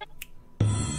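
A single sharp finger snap, close and loud, rings out after a moment of quiet and is followed by a burst of noisy chatter, imitating the Iron Man 3 snap.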